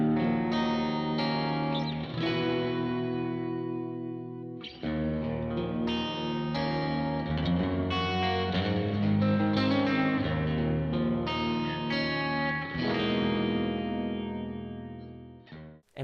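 Electric guitar played through a Friedman Twin Sister amp in a demo song, a full, distorted tone with chorus and echo, sustained chords and riffs running steadily for about sixteen seconds with a brief break near five seconds.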